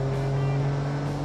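A 1965 taxi engine in BeamNG runs at full throttle, a steady, droning hum held at constant pitch through a short stretch.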